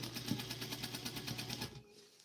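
A sewing machine topstitches a seam on a Vogue 1737 garment, running in a steady rapid needle rhythm for under two seconds before stopping, faint and close.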